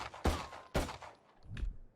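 Gunfire in the video game Valorant, with two sharp shots followed by a softer third burst, quiet and alone.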